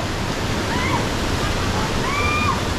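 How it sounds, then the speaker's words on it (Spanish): Waterfall at Mindo, Ecuador, a steady, close, broadband roar of falling water with no breaks, with a few faint high whistling calls drifting over it. "Ya acá está la otra cascada."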